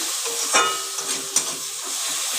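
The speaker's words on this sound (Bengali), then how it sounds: "এবার আমি ভালো করে মশলাটাকে কষিয়ে নেব।" Spice paste with green chili paste fries in a pan for an egg curry while it is stirred: a steady, loud, close sizzle with a couple of brief scraping sweeps of the spoon, and no voices.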